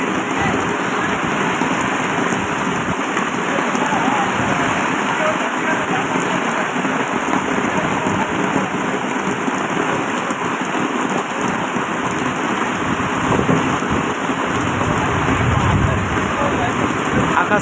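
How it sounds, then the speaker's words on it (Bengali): Heavy rain pours over a rural market during a sudden storm, a dense, steady roar of downpour that stays loud and unbroken throughout, with no distinct thunderclap standing out. "10-15 মিনিট মতো প্রচুর বৃষ্টি হচ্ছে।"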